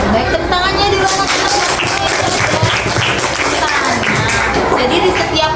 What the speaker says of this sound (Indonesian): tepuk tangannya di ruangan